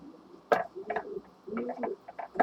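A pet bird coos softly nearby in a series of short, low murmuring calls separated by brief pauses, with faint background noise in the room.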